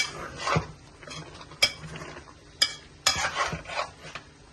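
Cauliflower is sautéed in a pan, giving a soft sizzle under repeated clanks and scrapes of a spatula stirring against the metal, with several sharp knocks and no talk.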